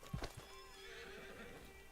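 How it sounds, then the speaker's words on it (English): A horse in a video game gives a short neigh and a few clip-clopping hoof steps near the start, then a faint steady tonal ambience with no voices. "Get on the horse there."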